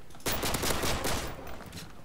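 Rapid gunfire in Call of Duty Modern Warfare 3, including a USP pistol, bursts out loud and close in a dense, sustained volley, then thins into scattered shots and echoing tails.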